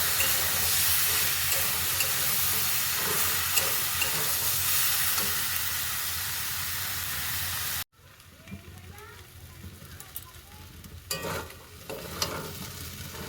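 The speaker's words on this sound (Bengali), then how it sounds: "আমি ভালো করে নেড়ে নিয়েছি।" Pointed gourd with chilli powder and garam masala frying in a pan, a loud dense sizzle with stirring scrapes, then a quieter spell of soft hissing and clinks.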